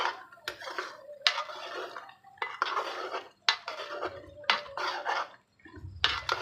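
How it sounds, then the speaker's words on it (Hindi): A spatula scrapes and clatters against a wok as chicken karahi with gravy is stirred and fried, coming in repeated metallic bursts with a faint sizzle and low hum between them. "कढ़ाई की इस तरीके से बुनाई करते जाना है।"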